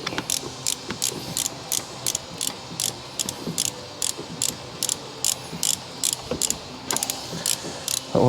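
Rapid ratchet clicks come in repeated bursts as a socket wrench snugs bolts on a Volvo 850 wagon engine during water pump and timing belt work, close and crisp with short pauses between strokes.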